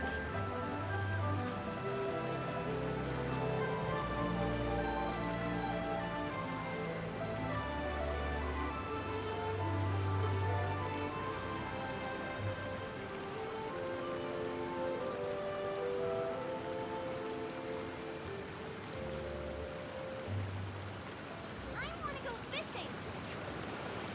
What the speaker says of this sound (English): Such auspicious rain that wets the land.